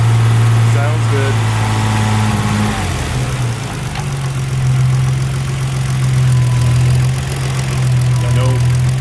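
A rebuilt Nissan RB26 engine idles steadily while warming up, a loud, close, continuous drone whose pitch dips briefly and then settles back into an even rumble throughout.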